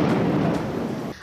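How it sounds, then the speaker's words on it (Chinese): A loud, close roll of thunder from a spring night thunderstorm, a dense sustained rumble that holds steady before cutting away near the end. "一道道闪电劈下，"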